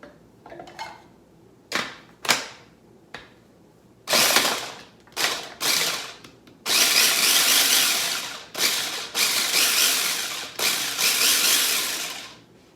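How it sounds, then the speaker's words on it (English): A food processor chopping garlic, whirring in short pulsed bursts at first and then in longer sustained runs, loud and close with no talk. "with this food processor, what we're going to do to start us off is I'm going to open it up and I'm going to chop up the garlic"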